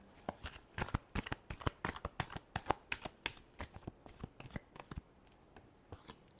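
Tarot cards shuffled by hand in a fast run of crisp riffling flicks and slaps, close and clear, settling into quieter handling near the end.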